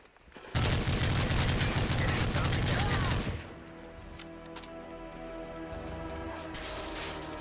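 Rapid bursts of gunfire from Call of Duty: Modern Warfare 3 multiplayer, a loud dense volley for about three seconds that cuts off into quieter game noise.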